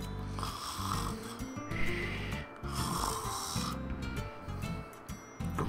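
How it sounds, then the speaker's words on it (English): A character in a visual novel game snoring loudly and close up, with slow, regular, rasping breaths that repeat several times. "was already snoring on the top of the cushions"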